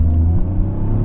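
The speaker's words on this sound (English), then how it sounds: "The exhaust sounds good too." A Toyota GR Corolla drives along with its engine and exhaust giving a steady, loud low rumble and drone from inside the car, holding even throughout the short stretch.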